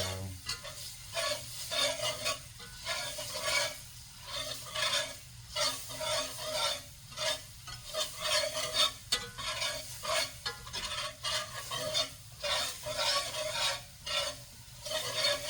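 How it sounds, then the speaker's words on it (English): Steady scraping and stirring of gravy with onions in a pan, with a constant sizzle of frying underneath, rhythmic strokes repeating close by throughout. "So we're just gonna keep stirring this until it gets like a chocolate"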